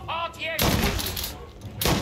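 A single loud firearm gunshot in the video game Mafia: Definitive Edition, a sharp close blast with a ringing tail, followed by another shot at the end, after a brief stretch of a voice speaking.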